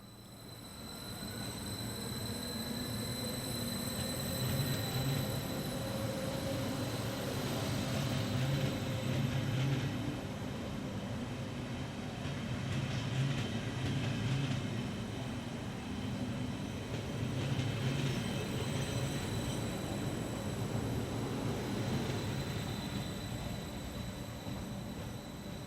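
Westbahn class 4110 electric train departing for Salzburg, a steady rolling rumble with faint high whine heard from trackside, holding at a fairly even level throughout the long pass.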